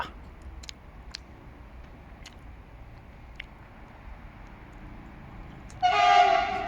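A Siemens EU44 locomotive hauling a Polish intercity train rumbles low and steady with a few sharp clicks, then sounds a loud, sustained horn blast near the end.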